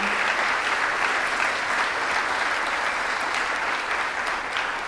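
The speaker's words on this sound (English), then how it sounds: "So let's give a round of applause to James." Audience applause at a lecture event, dense steady clapping from a crowd that holds evenly loud for the full stretch with no voices over it.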